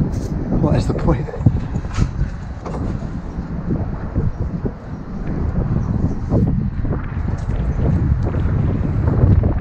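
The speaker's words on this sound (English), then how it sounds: "It's proper windy, man." Strong wind buffets the microphone on top of a crane high above Dubai, a steady rumbling roar with gusty swells throughout, and a voice speaks briefly over it.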